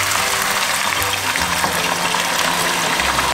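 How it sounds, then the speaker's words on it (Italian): White wine splashes into a hot pot where chili is cooking for Roman oxtail stew (coda alla vaccinara), giving a loud, steady, hissing sizzle that lasts the whole time with no talking. "andiamo a sfumare con del vino"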